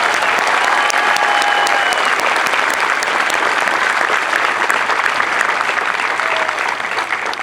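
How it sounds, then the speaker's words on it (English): Steady, dense applause from a large crowd at an Air Force basic military training parade, loud and continuous throughout, tapering slightly at the end. "let's give them a round of applause"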